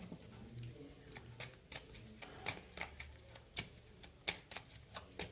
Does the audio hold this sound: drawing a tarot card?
yes